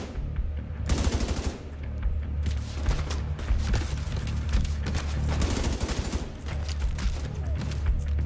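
Gunfire in the shooter game The Division 2 rattles in sustained automatic bursts with brief gaps, loud and close, mixed with occasional heavier booms.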